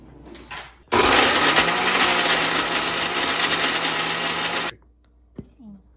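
A mixer grinder blends spice paste for tomato kuzhambu, a loud, steady whirring roar that starts abruptly, runs about four seconds and cuts off into near quiet.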